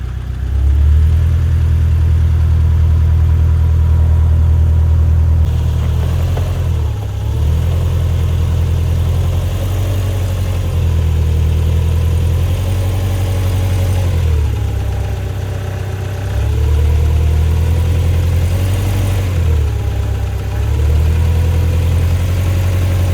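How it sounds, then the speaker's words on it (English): A 1998 Subaru Outback lifted 6 to 8 inches on 31-inch tires idles steadily and close, its low engine hum holding even with a few slight dips and rises in pitch, no voices present. "This is a 98 Subaru Outback with 6 to 8 inches of lift, 31-inch tires"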